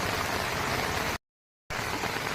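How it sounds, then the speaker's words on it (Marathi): Heavy rain pours steadily during mango tree pruning, a dense, even hiss that runs continuously, drops out completely for about half a second, then resumes at the same strength. "भर पावसात अशी छाटणी झालेली."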